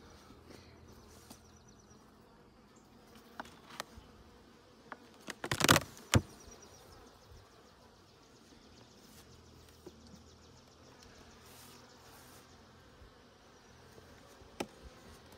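Honey bees buzz softly around an open hive during requeening, a steady faint insect hum with a couple of sharper close passes near the middle and scattered light taps and rustles.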